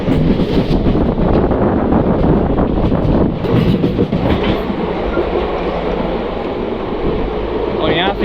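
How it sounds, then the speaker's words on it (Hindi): The 19817 Haldighati Express runs on the line toward Kota with a continuous loud rumble and rhythmic clickety-clack of wheels over rail joints, plus some wind buffeting the microphone. "हमारी ट्रेन अब चल पड़ी है कोटा वाली लाइन पे।"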